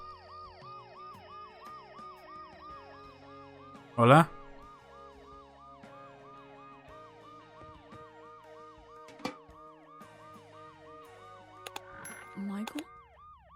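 Ambulance siren in the video game Dead Synchronicity, a steady wailing up-and-down cycle sounding continuously under game ambience, with a sharp crash and a brief spoken word partway through.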